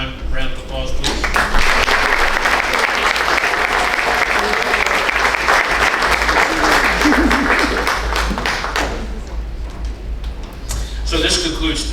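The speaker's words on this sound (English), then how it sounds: "Ladies and gentlemen, one more time, round of applause, please." Loud, sustained audience applause at a quarterly volunteer recognition ceremony, a dense roar of many hands clapping steadily close by for the full stretch with little letup.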